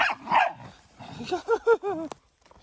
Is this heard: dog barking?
yes